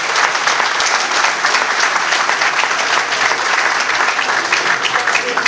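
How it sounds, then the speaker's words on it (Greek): A crowd gives loud, sustained applause for the children at an amputees' association New Year's pie-cutting event on Thira. The dense clapping continues steadily throughout, with voices mixed in. "Ένα θερμό χειροκρότημα για αυτά τα παιδιά"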